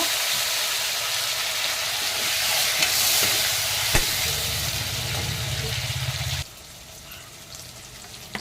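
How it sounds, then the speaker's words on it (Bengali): Eggplant frying in hot oil in a kadai, a loud, close, continuous sizzle with stirring that drops off abruptly near the end, leaving a quieter hiss. "বেগুনটা দিয়ে আমি ভেজে নেব।"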